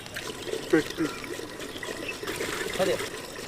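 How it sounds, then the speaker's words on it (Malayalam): Water is poured into a pot over chicken, a gurgling, splashing stream with uneven surges, and a voice can be heard faintly underneath. "ചിക്കൻ മുങ്ങിക്കിടക്കുന്ന രീതിയിൽ കുറച്ച് വെള്ളം ഒഴിച്ചു കൊടുക്കാം"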